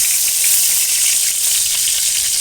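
Pointed gourd (potol) fries in hot oil during a second round of frying, giving a loud, steady, close hiss and crackle that runs unbroken throughout.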